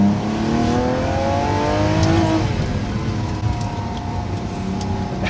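Lamborghini Sián hybrid V12 supercar engine revving with a smooth rising and falling note, a sustained close-range drone through the whole stretch.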